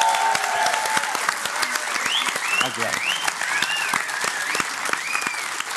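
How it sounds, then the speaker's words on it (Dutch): Studio audience applauding steadily throughout, a dense continuous patter of many hands at an even level, with a short spoken thanks heard over it near the start. "Dus graag even applaus."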